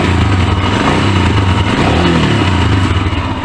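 A Royal Enfield motorcycle engine runs loud and close with a dense, chugging low rumble and mild revving swells, with no talk over it.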